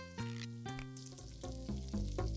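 Burger patties sizzling on the grill in the video game Papa's Burgeria, a close steady sizzle with repeated short clicks and tones over it.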